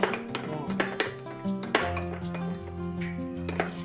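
Cucumber salad with mayonnaise mixed in a bowl, repeated clinks and knocks of a utensil against the dish in an uneven rhythm, close and clear with no talking.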